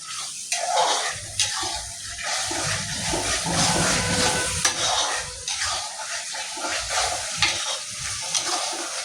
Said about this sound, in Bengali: যতক্ষণ না তেলটা ভালো করে কাটছে ততক্ষণ হচ্ছে মশলাটা মিক্স করে দেবো